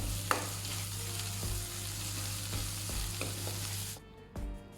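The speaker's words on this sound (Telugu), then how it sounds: "ఇప్పుడు తగినంత పసుపు, అల్లం వెల్లుల్లి పేస్ట్ వేసి ఒకసారి ఆయిల్లో ఫ్రై చేసుకోండి" Turmeric with ginger garlic paste frying in hot oil, a steady close sizzle with a few utensil taps and stirs, which quiets briefly near the end before rising again.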